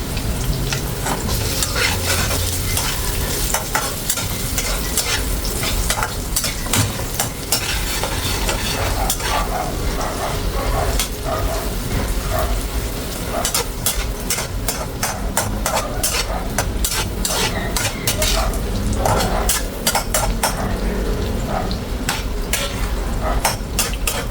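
Butter sizzling in a frying pan for buttered shrimp, a steady loud crackle and hiss throughout, with metal utensil scrapes and clinks from stirring.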